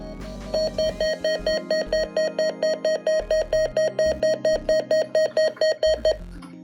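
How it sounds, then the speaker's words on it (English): A rapid series of about two dozen short electronic button beeps from a Uniden Bearcat BC248CLT radio scanner in a steady rhythm, loud and close, stopping abruptly near the end. "I forgot about that button beep."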